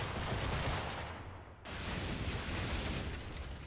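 Ship cannons fire in a naval battle in Assassin's Creed IV: Black Flag, a dense, continuous roar of booming gunfire and explosions with one brief dip partway through, loud throughout.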